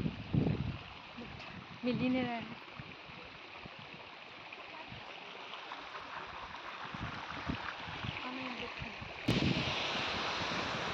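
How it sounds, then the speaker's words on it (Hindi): Water rushing at Hundru waterfall near Ranchi, a steady distant wash blended with wind, running throughout under intermittent nearby talking. "पानी का आवाज़ तो आ रहा है"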